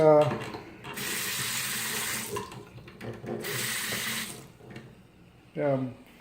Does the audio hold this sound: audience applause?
no